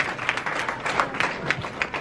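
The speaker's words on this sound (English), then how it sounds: "Another big round of applause for the granddaughters of the couple." Scattered clapping at a 50th wedding anniversary party, a modest round of applause with irregular sharp claps at moderate level, no voices over it.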